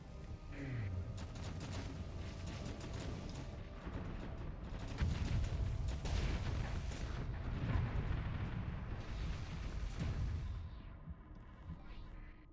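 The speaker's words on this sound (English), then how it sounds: "Oh man, Rift torpedoes are insane." Rift torpedoes firing and exploding in a space video game, a sustained roar of rumbling blasts and sharp impacts layered over each other, swelling in the middle and fading toward the end.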